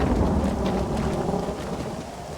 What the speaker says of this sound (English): That thunderstorm went on for quite a while already.